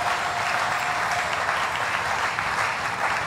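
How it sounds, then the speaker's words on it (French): A church congregation at a Sunday service applauding, a steady, sustained wash of many hands clapping together at even loudness from start to finish. "Est-ce qu'on peut acclamer pour la volonté de Dieu?"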